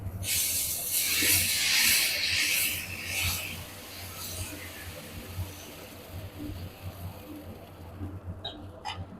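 Onion dosa batter poured onto a hot griddle hisses loudly for the first few seconds, then settles into a quieter, steady sizzle with faint scraping near the end.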